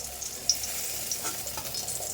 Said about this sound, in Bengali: এবার মাছ ভাজা বসিয়ে যাব ঘরটা মুছতে